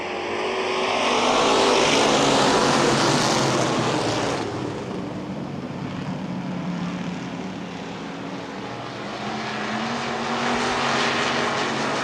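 Street stock race cars roaring off turn 4 at Baer Field Speedway, a loud dense engine drone that swells as the pack passes close, then settles into a steady rumbling growl.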